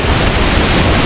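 Jembong waterfall in Bali roars up close as a loud, dense, unbroken rush of falling water with no pauses and no voices.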